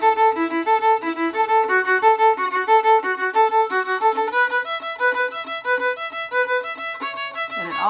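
Fiddle playing the fast double part of a tune, a quick run of bright pitched bowed notes in a steady driving rhythm, solo and close.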